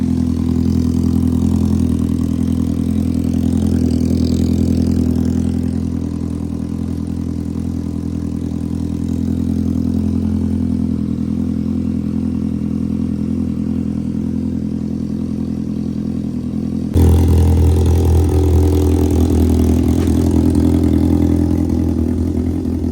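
A race car engine runs close by, holding a steady low rumbling idle with a brief dip midway, then roughly revs up louder near the end.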